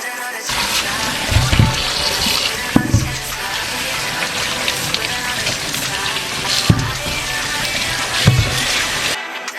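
Tap water runs steadily over juicer parts as they are rinsed, a continuous close splashing broken by a few louder knocks and clatters of the pieces.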